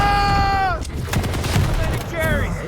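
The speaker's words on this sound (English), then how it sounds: "Great machine gun usage as well." Rapid machine gun fire in the video game Quake Champions rattles on steadily in the foreground, with a tonal game effect sweeping in and out.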